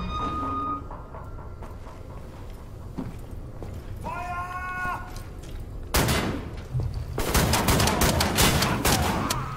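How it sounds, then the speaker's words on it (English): Shrapnel rounds are fired in Wolfenstein The New Order, with scattered game sounds early and then a dense burst of loud, rapid gunfire over the final seconds. "I want to test out these shrapnel rounds."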